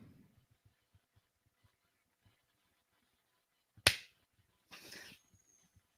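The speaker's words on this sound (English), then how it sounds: "That was the saddest clap I've ever heard." A single feeble hand clap, close and dry, then a brief faint patter of a few more, in an otherwise quiet room with low murmuring at the start.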